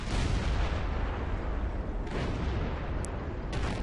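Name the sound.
tank gun shot in World of Tanks video game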